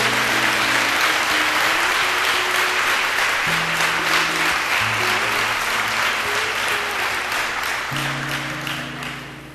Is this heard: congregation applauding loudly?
yes